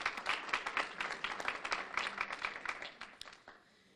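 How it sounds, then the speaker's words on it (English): An audience at a city beautification awards ceremony applauds for about three seconds, a brisk patter of many hands that quickly tapers off and fades out. "Please take a moment to applaud our shopping centers."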